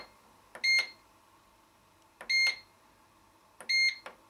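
A BEEM B7.001 Multi-Back Topclass breadmaker sounds three short electronic button-press beeps, each a bright tone heard close and clear, spaced about one and a half seconds apart against near silence.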